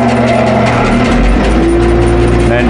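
A machine starts up to cut a circle in material for a yacht's security camera housing, with a steady, loud mechanical hum and whirr, a low drone rising partway through, and a voice partly audible under it.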